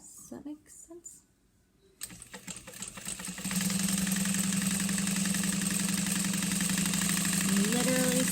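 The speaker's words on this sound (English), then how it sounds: "I'm literally sewing right next to my foam" A sewing machine stitches a bag seam right beside foam padding, starting after a quiet stretch and then whirring steadily and loudly near the microphone, with brief speech at the start.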